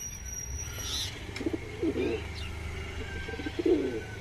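Punjabi pigeons coo softly in a couple of low, rolling bursts against a faint background hum, with no talking.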